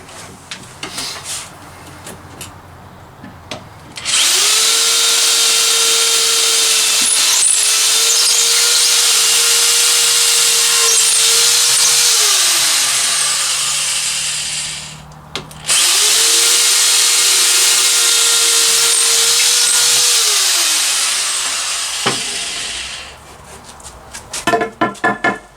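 Power drill boring holes through a 1.5 by 1.5 inch piece of wood, two long steady high-pitched whines that sag in pitch as the bit bites in, each lasting about ten seconds, loud and close with a short pause between.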